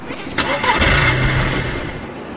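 A car engine in the video game DayZ cranks and tries to start with a dead battery, a short mid-pitched churning burst that fails to catch, close and fairly loud, with faint background hum.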